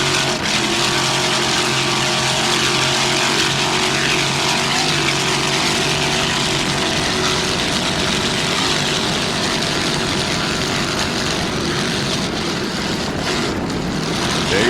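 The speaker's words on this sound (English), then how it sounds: "T-Custom Marine engine powering this 29-foot Warlock." A 29-foot Warlock powerboat with a T-Custom Marine engine races in the 1994 Key West World Championships, its loud continuous engine roar steady and close throughout, with no talk over it.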